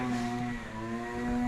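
A very fast scooter revs hard close by, giving a steady, loud engine whine with strong tonal harmonics that dips slightly midway and then climbs again.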